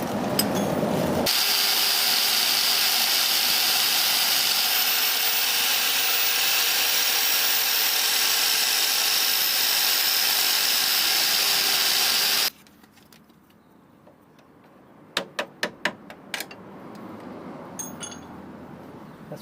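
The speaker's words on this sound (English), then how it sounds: "if you've got to grind off your drop links, the best way is to gradually grind down the bolt" A power grinder grinds off a rusted drop link bolt on an MX5 in a loud continuous whine. It then cuts off abruptly and is followed by a few sharp metallic clinks and taps.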